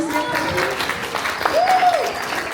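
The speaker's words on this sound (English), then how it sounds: "can we get a round of applause for our first year coaches?" Short burst of applause and cheering from a kickoff event crowd for first-year robotics coaches, mixed with voices, including one rising whoop.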